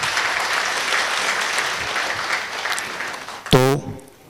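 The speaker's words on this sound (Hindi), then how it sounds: "जोरदार तालियां इनके लिए।" Sustained applause from an audience at a 2022 engineers' day ceremony in Jharkhand fills the room for a few seconds, then eases as a brief tonal voice-like burst cuts in near the end.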